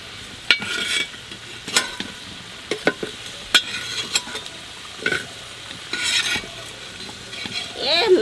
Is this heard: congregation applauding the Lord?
no